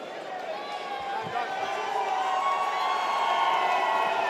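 A fight night crowd in St-Hyacinthe cheers and shouts steadily, the roar building slightly louder toward the end, with a broadcaster's voice talking over it.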